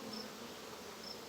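Honey bees droning steadily at a hive that is being checked for swarming, a dense, continuous buzz close by with no voices.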